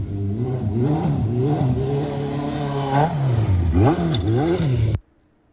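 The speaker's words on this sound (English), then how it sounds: "Jumping a freestyle ramp on a street bike." A street motorcycle engine revs hard and continuously near a freestyle ramp, the pitch climbing and dipping through several throttle swells, loud and close, then cutting off abruptly into silence.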